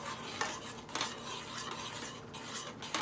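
A utensil stirs oatmeal steadily in a pot, with soft scraping and light clinks of metal running without pause, close and moderately quiet, with no voices.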